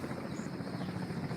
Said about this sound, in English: And right now in the background, you can probably hear a helicopter.